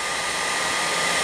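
A heat gun blows a steady, close airy roar while warming vinyl wrap on a car headlight bezel, one unbroken hiss with no voices.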